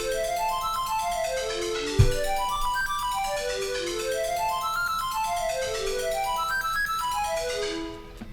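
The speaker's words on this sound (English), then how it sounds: "And there's also this arpeggio played in the background." Background arpeggio from a video game battle theme: a chord broken into single notes that ripple rapidly up and down in repeating rising and falling waves, bright and even, with a brief thump near the start and no talking.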